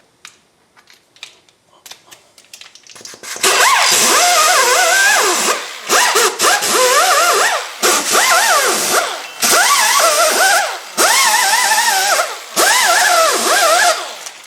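Cookie wheel on a power tool scrubbing corrosion off the brake hub face of a 2005 Chevy Trailblazer, loud close whirring grind in several passes of about two seconds each with short breaks, after a few quiet clicks and taps at the start.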